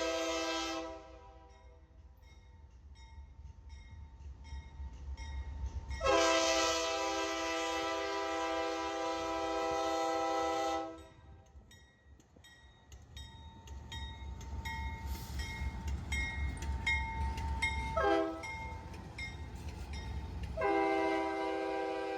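Norfolk Southern AC44 freight locomotives rumble past at Emory Gap, their multi-tone horn blaring in long sustained blasts over a steady low engine drone, with shorter horn bursts later as the train continues by.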